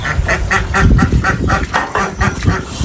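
Several ducks honk and quack in a steady, repeating rhythm, close by and fairly loud, with a busy village farmyard din of chickens underneath.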